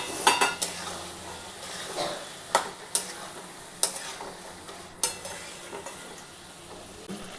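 Chickpeas tipped into a pan and stirred: a spoon clatters and scrapes against the metal in scattered sharp knocks over a soft, steady sizzle, close by and with no voices.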